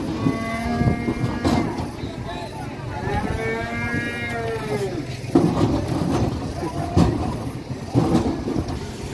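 A cow lowing loudly at a busy market, several long drawn-out moos close by over a noisy crowd and engine rumble, with people talking around it.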